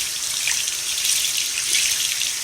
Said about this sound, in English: Turn on lukewarm water